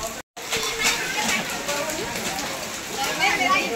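Rainwater pours down temple steps in a steady, close hiss of splashing and trickling. It drops out for a moment near the start, and the rushing continues with faint voices in the background.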